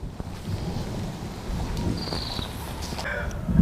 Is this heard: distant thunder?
yes